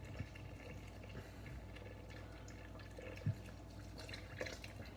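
Slow-pressed juice being poured into a blender holding dates, mango and tomato for a raw vegan dressing; a faint, steady liquid trickle with a small splash partway through.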